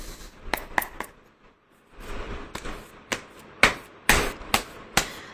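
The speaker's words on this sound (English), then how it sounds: "So let's shuffle the cards." Tarot cards are shuffled up close in a string of crisp flicking snaps and soft riffling rubs, uneven in rhythm, with a brief quiet gap partway through.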